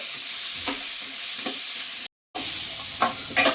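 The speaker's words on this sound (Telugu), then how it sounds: "ఈ ముక్కల్ని వేసేసి ఒక 2-3 నిమిషాల పాటు ఇలా వేయించుకున్నామండి" Pumpkin pieces and onion fry in a pan with a close, steady sizzle and a few stirring scrapes. A brief silent gap cuts in partway through. No speech.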